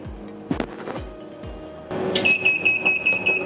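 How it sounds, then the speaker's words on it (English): A fire alarm triggered on a DSPPA MAG6000 IP PA system: a few soft knocks, then a loud, steady electronic alarm tone that pulses in even, rapid repeats. "This is the fire alarm function."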